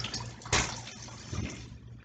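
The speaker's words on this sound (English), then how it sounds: "Rinse the pasta with cold water to stop the cooking" Cold tap water runs over cooked pasta for macaroni and cheese, a steady close splashing rush with a brief louder surge partway through, no talk.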